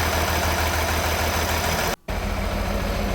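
The diesel engine of a repaired International 966 tractor idles close by in a steady, low throbbing rumble, cut by one brief dropout partway through before it carries on unchanged.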